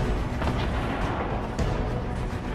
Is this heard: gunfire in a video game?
yes